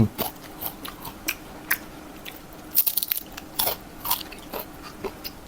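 Close crunchy bites and chewing of dried fish, such as sweet mackerel or sun-dried sea snakehead, eaten with hot sticky rice, scattered irregular crackly bursts with quiet pauses and no talk.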